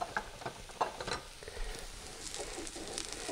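Homemade hash browns fry in a nonstick pan, a soft steady sizzle with light crackles and occasional pops, moderately quiet and with no talking.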